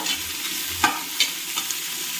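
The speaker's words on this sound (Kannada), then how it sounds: "ಬಾಳೆಕಾಯಿ ಹಾಕ್ಬಿಟ್ಟು ಇದು ಸ್ವಲ್ಪ 1-2 ಸೆಕೆಂಡ್ ಹಾಗೆ ಫ್ರೈ ಮಾಡ್ಕೊಳ್ಬೇಕು" Raw banana pieces fry with kasuri methi and garlic in a pan for pulao, giving a steady sizzle and a few sharp stirring scrapes, close and alone.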